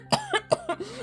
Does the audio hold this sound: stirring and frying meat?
no